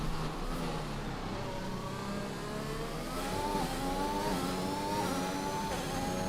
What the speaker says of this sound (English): it sounds like the car's about to stall. Just really getting starved of fuel